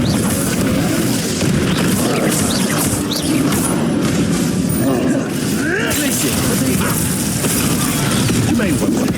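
Repeated Confringo fire spell blasts go off in Hogwarts Legacy amid a loud, dense rumble of booms and crashing combat noise that runs continuously through the clip, with spoken voices mixed in.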